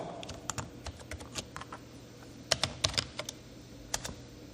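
Rapid keystrokes on a computer keyboard as a command is typed into a Linux terminal: a close, irregular run of crisp clicks with short pauses, with no voices.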